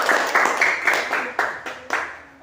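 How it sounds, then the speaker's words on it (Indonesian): Group 2 in a classroom gets a burst of applause from the students: dense, fairly loud hand clapping with sharp individual claps standing out as it gradually thins out. "kasih aplaus buat kelompok 2"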